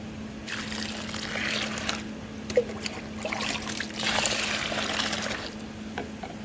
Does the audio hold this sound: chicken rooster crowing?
no